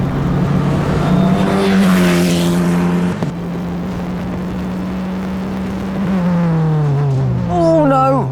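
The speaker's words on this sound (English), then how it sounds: "Oh no, that's not going to be good. It's a big lock-up." A Formula 4 race car locks up its brakes with a loud, sustained tyre squeal over the engine drone, lasting several seconds before the car roars back up through its revs.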